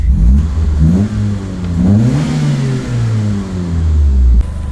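An old turbocharged Mitsubishi Lancer engine revs up and down in several loud, close, rising and falling pulls with steady mechanical rumble between them, and no voices.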